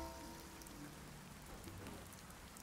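Rain in the viking survival game Dead in Vinland falls as a steady, faint hiss of drops with scattered soft patters, constant throughout and without any voices.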